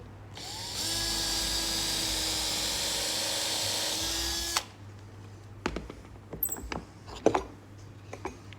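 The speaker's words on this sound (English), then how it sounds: "we're just going to carefully drill through there" An electric drill boring through wood whines steadily for about four seconds, then stops abruptly, followed by a few scattered clicks and knocks of handling.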